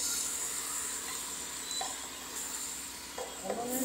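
Meat fries with ground coriander and cumin in a pan, giving a constant close hiss with a few soft scraping stirs near the end and no voices.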